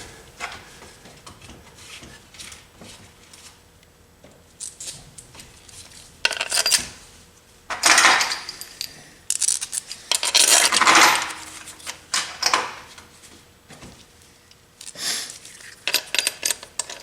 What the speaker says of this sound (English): I'm going to put all my washers and my bolts in.